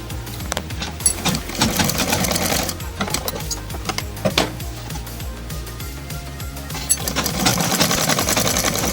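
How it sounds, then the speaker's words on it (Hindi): A sewing machine stitches the neckline of a kurta in quick, rhythmic bursts with short pauses between runs, close and fairly loud, with light handling clatter around it. "गले की ये गला और ये पट्टी रख के ऐसे गले की"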